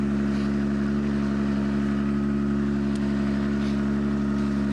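A drift car running with its muffler removed, its loud raw engine drone holding steady and close with low rumbling harmonics throughout, no talking over it.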